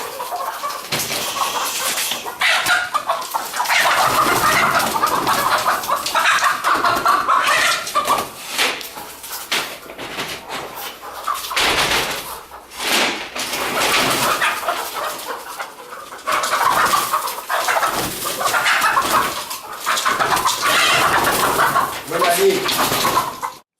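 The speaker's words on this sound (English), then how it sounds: "that guy's just kind of like chucking the chickens, out of these crates" Chickens being tossed out of crates off a truck, with continuous busy clucking, squawking and fluttering, plus clattering handling noise throughout at moderate distance.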